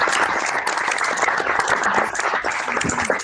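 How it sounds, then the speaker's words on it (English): Audience applause at a school board meeting, a steady, dense round of clapping from many hands that holds at full strength throughout with no voices over it. "Another round of applause."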